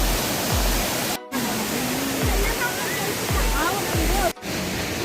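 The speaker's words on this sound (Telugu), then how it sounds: "చూడండి అసలు ఎంత ఫోర్స్ఫుల్గా పడుతున్నాయో వాటర్ అనేది." A powerful waterfall at a viewpoint near Gangtok, Sikkim pours with a loud, steady roar of rushing water in rainy weather, with people talking over it.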